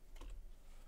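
A single soft click as the spacebar is pressed on a Commodore C64 keyboard, quiet and close, with no talking.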